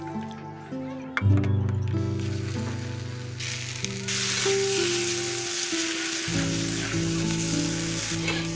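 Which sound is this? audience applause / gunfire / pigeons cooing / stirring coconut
stirring coconut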